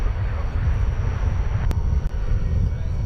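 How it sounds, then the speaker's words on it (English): An American Airlines Airbus A321 on approach to DFW Airport at night, its engines a low steady distant roar with a faint rumble throughout. "American Flight 2533 from the city of brotherly love, Philadelphia, an Airbus A321 is our next"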